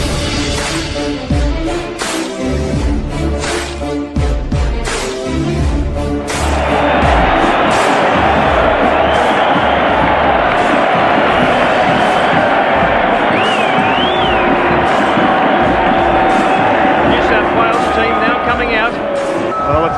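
A capacity crowd at a Lang Park rugby league match roars and cheers, loud and dense, with a commentator talking over the swelling noise as it builds into a sustained wall of sound.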